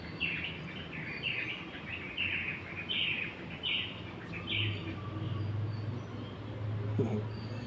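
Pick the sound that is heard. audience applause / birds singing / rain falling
birds singing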